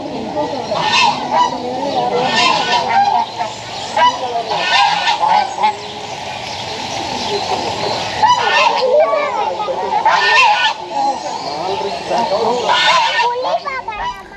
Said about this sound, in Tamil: சின்ன சின்ன குஞ்சு டக்கெல்லாம் உள்ளே இருக்குது